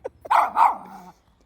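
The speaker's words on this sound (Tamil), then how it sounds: "நாய் மாதிரியும் சத்தம் வருது" A dog gives a single close, full bark followed by a shorter trailing yelp, loud and alone with brief silence around it.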